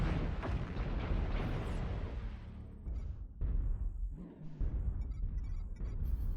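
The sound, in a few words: airstrike explosions in a video game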